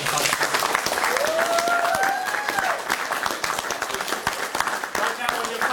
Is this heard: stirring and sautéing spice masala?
no